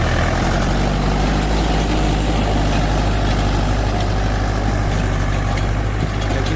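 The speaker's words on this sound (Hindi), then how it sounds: "ट्रैक्टर दुगनी ताकत से चलाना पड़ रहा है" Tractor engine labouring steadily under load while running a rotavator through a wet field, a loud continuous low diesel rumble with churning noise and no talk.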